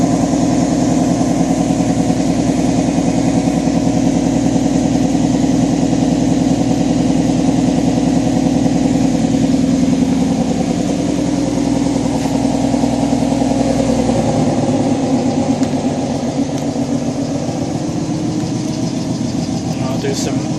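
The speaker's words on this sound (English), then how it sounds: "And I'll do some revs." A 2011 Ford Mustang V6 with BBK headers, an X-pipe and stock mufflers runs loud and close, holding a steady high idle that drops lower partway through, with a rough droning exhaust note.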